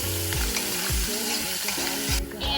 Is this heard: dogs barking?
no